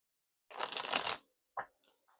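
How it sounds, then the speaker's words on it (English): Tarot cards shuffled by hand during a reading, one crisp riffling burst lasting under a second, followed by a short sharp card snap and a couple of faint taps, close and quiet. "Let's shuffle."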